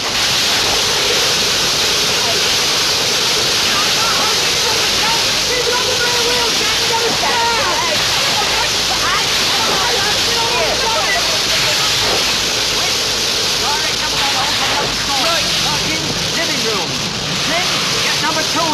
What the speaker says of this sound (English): Number 2 hose working.